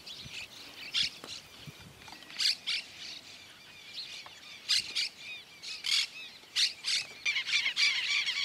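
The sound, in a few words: birds at dairy farm corrals, shiny cowbirds and doves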